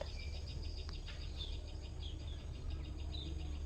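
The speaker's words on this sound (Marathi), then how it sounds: "पक्ष्यांचा आवाज, किलबिलाट." Faint bird chirps and short calls over a steady drone of insects, distant and quiet, with no voices.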